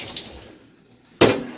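An EcoShower runs at a reduced, slower flow rate, with a soft trickle of water, a quiet gap, then a sudden louder rush of flowing water near the end.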